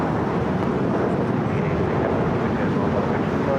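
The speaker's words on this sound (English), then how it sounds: "We also have British Airways," British Airways Boeing 777 airliner at LAX, a steady, loud, broadband jet roar that holds constant throughout, with wind-like rumble and no pauses.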